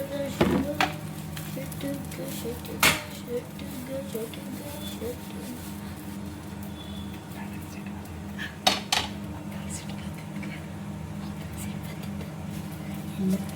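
A metal spatula scrapes and taps against a pan while flipping a dosa, with a few sharp clinks standing out over continuous kitchen clatter as someone talks nearby.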